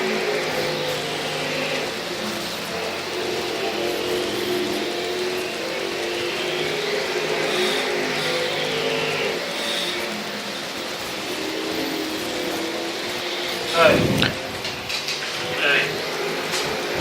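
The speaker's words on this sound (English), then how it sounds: "Next two cars on the racetrack taking time includes car number 2." Race cars at the Alabama State Championship drag strip, a steady engine roar filling the air with a louder surge as a car accelerates, broadband and continuous at mid distance.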